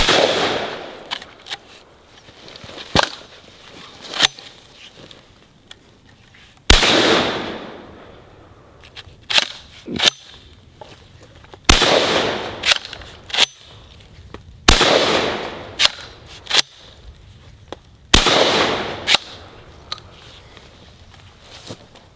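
A Remington 870 pump shotgun caked in mud fires several loud, sharp blasts at irregular intervals, separated by quieter clacks of the action being worked and shuffling between shots.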